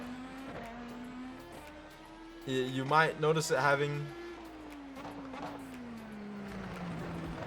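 An IndyCar engine in the iRacing sim revs with a growl for about two seconds in the middle, rising and falling through the gears, while someone talks over the whole clip.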